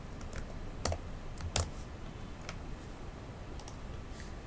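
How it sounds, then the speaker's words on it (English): Typing on a computer keyboard while entering a Python program, with sparse, irregular key clicks and a few sharper taps over a steady low background hum, close and fairly quiet, no talking. "Here you can start typing the program."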